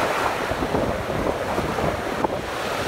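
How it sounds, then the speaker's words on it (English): Big ocean waves breaking right on a beach, a continuous loud roar of surf with wind buffeting the microphone, no voices. "They just passed through real quick with these big waves breaking here."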